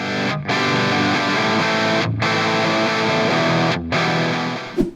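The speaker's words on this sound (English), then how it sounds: "it's hard to get much clarity out of full chords when playing through high gain tones" Electric guitar strumming full open chords through a high-gain distorted tone, dense and saturated, with three short breaks between sustained chords and a final brief hit at the end.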